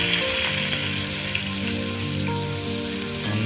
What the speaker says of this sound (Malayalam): ഇതിലേക്ക് നമുക്ക് അരിഞ്ഞു വെച്ചേക്കുന്ന സവോള ആഡ് ചെയ്യാം